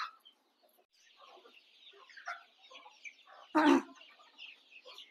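A mother hen with small chicks clucks softly and repeatedly amid faint chirps from the chicks, with one louder, sharper squawk partway through.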